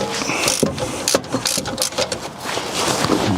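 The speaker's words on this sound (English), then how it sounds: "they are an 8mm Allen bolt to release them" A ratchet clicks in quick uneven bursts as 8mm Allen slider bolts are loosened on a rear brake caliper of a BMW F20/F21 1 Series, close and crisp with metallic handling between strokes.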